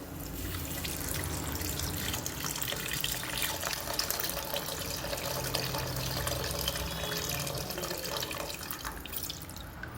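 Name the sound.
pouring tamarind water into cooking pan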